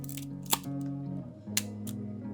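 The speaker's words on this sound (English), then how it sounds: "The shutter is extremely quiet and making the camera very discreet." A Canonet QL17 GIII film camera shutter fires twice, each a quiet, short click about a second apart, over soft background music.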